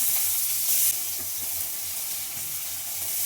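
Chopped onion dropping into a hot oiled pan, giving a loud, steady hiss of frying close by that continues without a break and with no talking.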